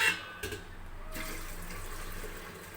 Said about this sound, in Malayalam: തണുത്ത വെള്ളമാണ്. തണുത്തതെന്ന് പറഞ്ഞാൽ സാധാ വെള്ളം കേട്ടോ. അത് ഇതിലൊഴിച്ചിട്ട്